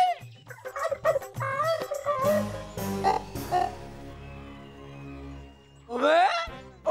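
A hen clucks in a rural Haryanvi comedy sketch, with a run of choppy, rising clucks and squawks, a quieter stretch, and then a sharp upward squawk near the end.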